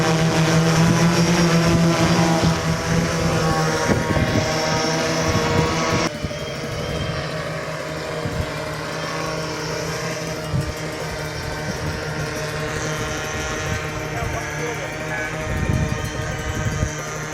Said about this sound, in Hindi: आज गन्ने के खेत में ड्रोन से दवा का छिड़काव किया गया